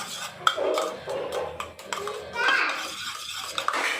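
Spoon stirring chili powder and salt together in a bowl, with soft clinks and scraping strokes at a steady, close, moderate level and a voice speaking quietly in places.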